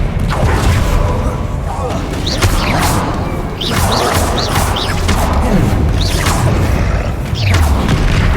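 Spell blasts and explosions in the Hogwarts Legacy video game, loud booms, crashes and whooshes that follow one another in quick succession, mixed with spell-casting voices throughout.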